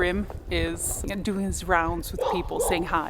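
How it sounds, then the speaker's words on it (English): A dog barks in short excited yips while greeting people on a snowy, quiet day during the Svalbard polar night, the barks scattered under steady close-up talking. "you can hear him barking because he's so excited meeting people."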